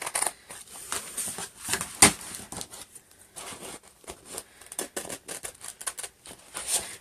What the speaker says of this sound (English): all you have to do is cut your transfer apart on them lines